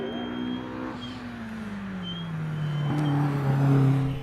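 A Lotus Exige race car climbs the Harewood hillclimb course, its engine note rising and dropping through gear changes as it builds to a louder, nearer pass.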